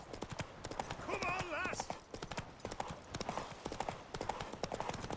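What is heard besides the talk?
horse hooves galloping in The Witcher 3 video game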